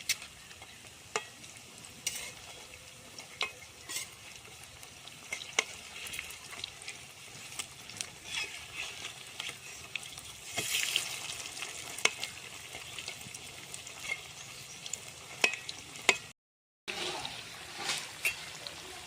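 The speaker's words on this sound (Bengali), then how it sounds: "এগুলোকে আরও এখন উল্টো পাল্টো করে ভালো করে ভেজে নিব" Chicken pakoda fries in hot oil with a steady, fairly soft sizzle and bubbling. Frequent sharp clicks and scrapes come from turning the pieces, and there is one brief silent gap.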